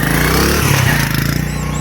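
A motorcycle engine runs loud and close, its steady low drone shifting pitch as the bike pulls away, with no voices over it.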